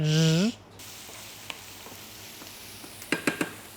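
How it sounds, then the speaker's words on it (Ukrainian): Onions fry in a pan for ratatouille, a soft steady sizzle after a brief loud tone at the start, with a few light utensil clicks and scrapes near the end. "Ми будемо зараз смажити цибулю, потім додавати да, томати, а потім перець."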